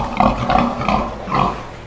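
A sow on a farm gives a series of close, loud grunts, about four in rhythmic succession, with no talk.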